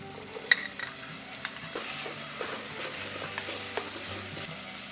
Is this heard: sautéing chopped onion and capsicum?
yes